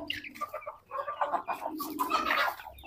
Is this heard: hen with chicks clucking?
yes